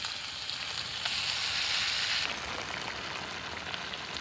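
Fish frying in hot oil in a pan for a Mulitivu-style fish curry gives a steady, close sizzle that swells louder for about a second mid-way, then settles back to an even crackle with no talking.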